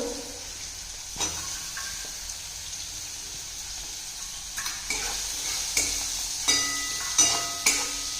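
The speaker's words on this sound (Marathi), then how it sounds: "हा कांदा चांगला भाजून घ्यायचा आहे सोनेरी रंगावर।" Chopped onion fries in a pan with a soft, steady sizzle, broken by a few light clicks and taps of stirring, heard close and fairly quiet.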